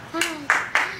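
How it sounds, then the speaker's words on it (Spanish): A few people clap for children at a September music school class, three or four sharp claps spaced out over a moment, with a voice talking underneath. "Un aplauso para todos."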